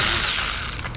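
A 10mm bolt comes off a bracket on the engine of a 2009 Toyota Camry 2.5. It makes one close, busy burst of mechanical ratcheting lasting about a second, with no talk.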